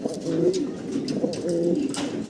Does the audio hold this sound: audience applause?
no